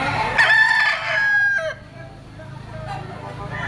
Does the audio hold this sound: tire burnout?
no